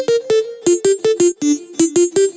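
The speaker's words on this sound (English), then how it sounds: "It's a little melodic lead," A short melodic synth lead from an electronic music production plays alone, with about ten bright, plucky notes in a bouncing rhythm that moves between two pitch levels.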